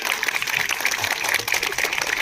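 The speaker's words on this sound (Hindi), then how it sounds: "एक बार जोर से तालियां बजाएंगे, विधायक महोदय का स्वागत करेंगे" Sustained applause from a school audience at a Republic Day celebration, welcoming the MLA. It is a dense, even patter of many hands clapping together, steady and fairly loud, with some faint voices underneath.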